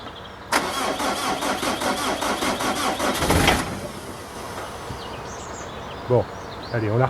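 A vehicle engine cranking in cold weather, a rapid rhythmic starter whir lasting about three seconds, then a near idle that settles quietly, with faint voices later on.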